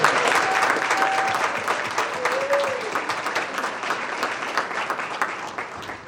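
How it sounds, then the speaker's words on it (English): An audience at a county summit against hatred gives a sustained round of applause for the main moderator, a dense, steady wash of clapping that slowly fades, with a few faint voices. "please give a big round of applause for the main moderator today, Brooke Malloy"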